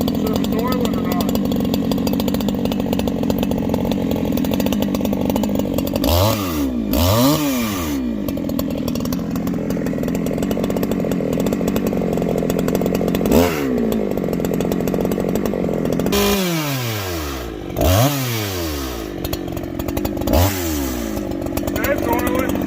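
A chainsaw runs steadily while cutting a barkless oak log outdoors, a loud continuous motor drone with several sharp revving sweeps as the throttle rises and falls.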